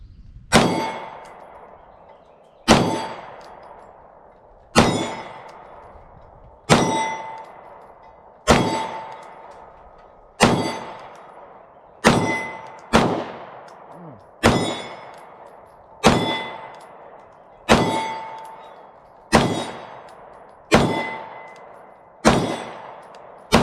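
A Canik TP9 Elite SC subcompact pistol in burnt bronze is fired at a target from about 12 yards, giving roughly fourteen sharp, loud shots at a steady pace, each followed by a short ringing decay.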